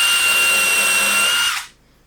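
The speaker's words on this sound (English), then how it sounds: "use our countersink, which is a great little piece, just kind of fits over your bit. And the purpose of this is to pre-drill a hole" A DeWalt DCF601 12V subcompact screwdriver pre-drills a hole with a countersink bit, a loud steady high-pitched whine close by that cuts off abruptly near the end, leaving quiet.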